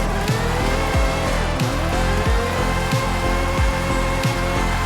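An Aston Martin Valkyrie AMR Pro drifting in a racing game, its engine droning loud and steady with repeated downshift dips and revs, tire noise underneath, alone without talk.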